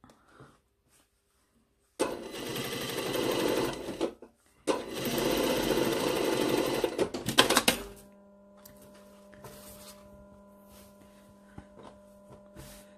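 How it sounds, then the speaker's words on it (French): A sewing machine stitches a modified sleeve on a top in two loud, fast, whirring bursts of needle chatter separated by a short pause, then only a faint steady hum remains. "le fait de faire une petite piqûre comme ça"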